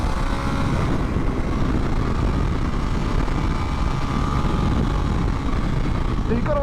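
A KTM 1390 Super Duke R motorcycle engine drones steadily from onboard as the rider slides the bike through turns. The engine noise is loud and unbroken beneath someone talking.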